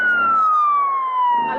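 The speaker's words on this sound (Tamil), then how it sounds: "அது போலீஸ் வேண்டடா, ஆம்புலன்ஸ்டா" A passing ambulance siren wails loud and close, a single sustained tone sliding slowly downward with traffic rumble beneath, no talk.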